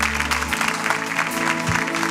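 A crowd at a church youth anniversary talk show claps at a moderate, steady level, a diffuse patter of applause over a low musical drone, with no voices over it.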